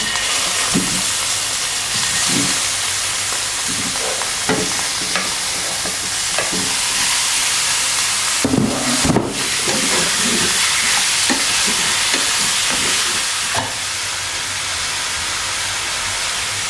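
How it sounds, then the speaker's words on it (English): Beef pieces pan-fried with scallion sections in a hot pan for a Chinese beef stew, a continuous loud sizzle under repeated scraping and stirring clatter, close up, with a brief louder burst of hissing midway and no speech. "And pan fry for a few minutes until the meat starts to turn slightly brown."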